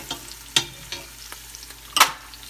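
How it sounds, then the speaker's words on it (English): Crushed garlic fries in a pan while a spoon stirs it, a soft steady sizzle broken by a few sharp scraping and clacking strokes, close and alone. "I'll just throw a teaspoon of the crushed garlic, and once it's there, I'll continue stirring a little bit"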